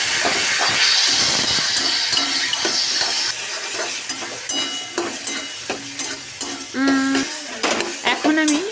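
A spiced mixture being stirred in a pan, with steady sizzling under repeated scraping and knocking of a spoon against the pan, close and continuous, with some tonal ringing from the utensil and quiet talk faintly behind.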